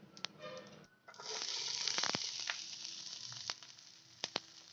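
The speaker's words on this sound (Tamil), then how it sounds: "இதை நல்லா வதக்கி விட்டுக்குங்க" Onion, green chilli and garlic hit hot oil with mustard seeds and cumin, bursting into a steady, close sizzle broken by a few sharp utensil clicks and scrapes.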